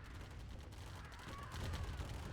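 Rapid small-arms fire from minigunner infantry in a real-time strategy game, a dense continuous crackle of shots that thickens toward the end, steady and moderately loud.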